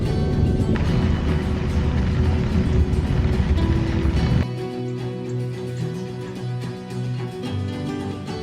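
Fast-moving road traffic rushes past along a narrow road near the Erie Canal Trail in New York, a loud broadband roar of a passing vehicle that drops off abruptly into a lower steady engine hum.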